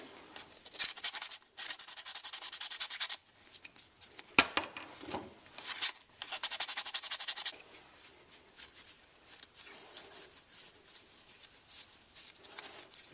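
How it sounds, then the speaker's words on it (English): Wooden crankbait fishing lure being sanded by hand, with bursts of dry, hissing scratchy rubbing strokes that come in uneven clusters, close and fairly clear with no talking. "we got to sand it a little bit more"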